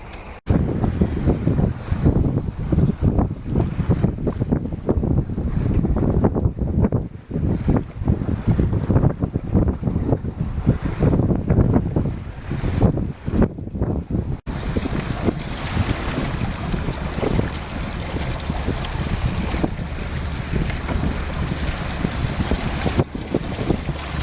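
Cold wind and rain buffet the microphone aboard a Drascombe Coaster sailing boat off the Scottish islands, a loud, continuous roaring rush with gusting surges and water noise throughout.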